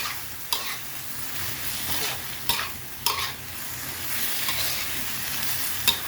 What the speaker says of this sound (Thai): ผัดไปเรื่อยๆนะคะจนกว่าทุกอย่างจะเข้ากันค่ะ